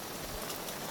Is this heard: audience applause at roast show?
no